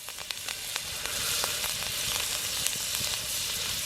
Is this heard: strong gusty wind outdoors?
no